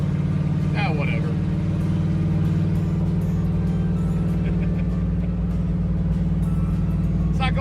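An old manual farm truck rumbles along with a steady, loud low engine drone and road noise, while voices talk briefly over it.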